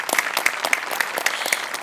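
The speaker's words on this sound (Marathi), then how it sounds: "अभिजित पवारसाठी पण एकदा टाळ्या वाजल्या" An audience at a Marathi comedy show applauds performer Abhijit Pawar: brisk, close clapping with sharp individual claps standing out in a steady rhythm.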